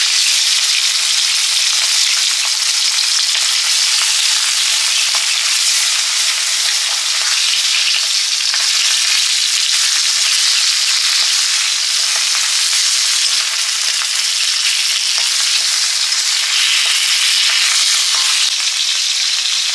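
Foli fish frying in oil, a loud, dense and unbroken hiss of sizzling held steady for the whole stretch, with no voices.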